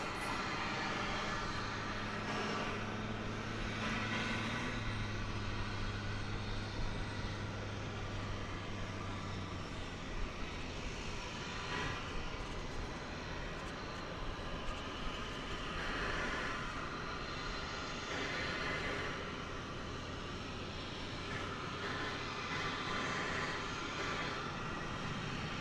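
An American Airlines jet taking off at Dallas/Fort Worth airport, a broad sustained engine roar heard from a distance that holds steady throughout with a low hum fading early on.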